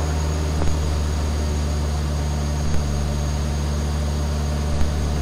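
Van's RV-7A experimental homebuilt aircraft in flight, heard from inside as a steady, loud, unbroken engine and propeller drone with a constant hum, and a few faint clicks.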